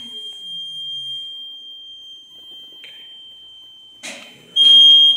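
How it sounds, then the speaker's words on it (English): A steady high electronic alarm tone drones from a Haas VF-3 CNC machine warning of a low battery, continuous and piercing, with brief clicks and a louder burst of noise near the end. "It's not going to get anywhere because of this alarm"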